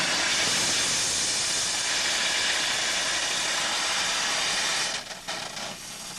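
A loud, steady roar of hissing steam and water venting from the burner of a 1998 White steam car, continuous for several seconds before faltering and sputtering briefly near the end.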